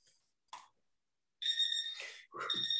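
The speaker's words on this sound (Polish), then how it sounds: "O Jezu, znowu ten budzik." A bright electronic alarm clock tone in short bursts after a brief blip, loud and close, with a warbling, beeping quality.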